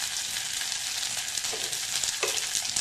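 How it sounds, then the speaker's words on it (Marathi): Coarse wheat for lapshi is roasted in a spoonful of ghee in a kadhai. A soft, continuous sizzling hiss with faint stirring scrapes runs throughout, close and alone. "आता लाल चांगलं होईपर्यंत हे लापशीचा भरडा आपल्याला भाजून घ्यायचा आहे कढईमध्ये।"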